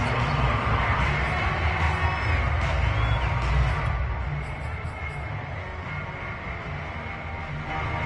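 A stadium crowd in the Madden 22 football video game roars and cheers ahead of a big third down, a loud, dense swell with whoops that eases down partway through and carries on steadily, with no voices on top.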